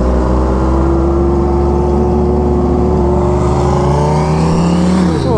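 Kawasaki Ninja H2R motorcycle riding among supercars, its engine droning loud and close with a steady roar, and a rising whine from the supercharged drivetrain and other vehicles building toward the end.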